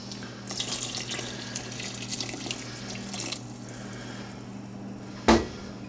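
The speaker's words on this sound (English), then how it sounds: "I'm going to go ahead and add the other stock" Stock pours steadily into a pot of cream of mushroom soup with a continuous splashing, watery rush that tapers off, and a sharp knock of the pot or container comes near the end.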